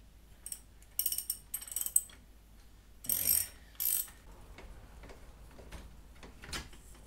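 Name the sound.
ratchet with 1/2-inch socket loosening motorcycle wheel nuts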